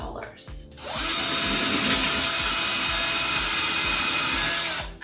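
A power drill bores into a wooden wall stud during a pantry build-out, a loud, steady grinding whir with rhythmic pulsing that holds for several seconds after a brief start-up burst.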